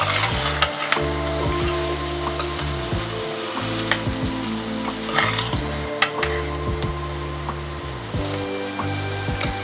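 Almond rava roasting in a pan with vegetables for keto upma: a loud, continuous close-up sizzle with repeated scraping strokes and occasional sharp clinks of a utensil against the pan.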